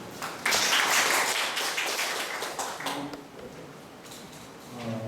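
Seminar audience applauding in welcome for a speaker at a church tax and worship seminar, a dense burst of clapping that starts suddenly and slowly thins out.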